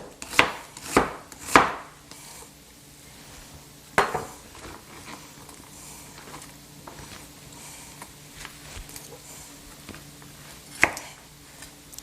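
A knife chops an onion into thin shreds, cut about 1/8 inch wide, with sharp board strikes: a quick cluster of three at the start, then isolated thuds spaced seconds apart, close and fairly loud with no voices.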